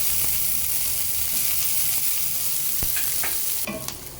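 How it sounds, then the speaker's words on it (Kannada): Chopped onion sizzles steadily with curry leaves in a hot pan, with a few scrapes and clinks of a spoon near the end. "ಈಗ ಈರುಳ್ಳಿ ಚೆನ್ನಾಗಿ ಫ್ರೈ ಆಗಿದೆ"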